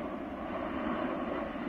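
An airplane passes overhead, a steady, moderately loud broadband engine drone that holds evenly throughout without any talk.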